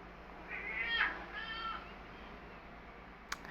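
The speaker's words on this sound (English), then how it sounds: "That is my cat Misty." A pet cat named Misty gives a couple of soft, drawn-out meows early on, fairly faint against a quiet room hum, with a small tap near the end.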